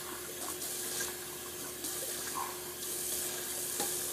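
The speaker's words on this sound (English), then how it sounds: "let me just rinse out my sink real quick." Water runs steadily from a tap into a bathroom sink as it is rinsed out, a continuous close splashing hiss for the whole stretch with no talk.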